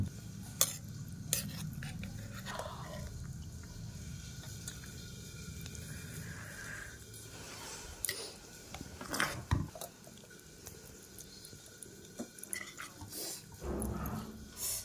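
Metal spoons and ladles clink and scrape against pots and serving dishes while vegetable khichdi with cauliflower is dished out, scattered close knocks and clatters over a quiet kitchen background.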